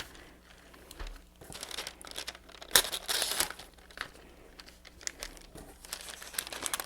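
A dull X-Acto knife scoring and cutting craft paper for a rooster and chicken craft kit, giving close, uneven crinkling and tearing rasps in short bursts, with one louder crisp stroke partway through.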